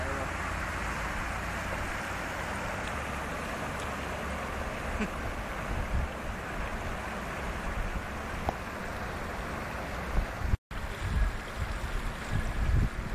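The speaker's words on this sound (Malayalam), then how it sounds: "ശക്തമായ വെള്ളമാണ് പോയിക്കൊണ്ടിരിക്കുന്നത്." Strong floodwater rushes after heavy rain in Fujairah, a continuous loud broadband roar with wind buffeting the microphone and a brief dropout near the end.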